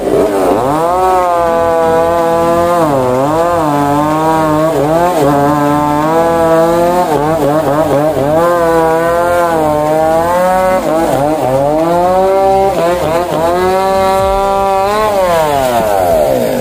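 A chainsaw trims a tree at a construction site, running loud and close with repeated revving rises and falls over about seventeen seconds.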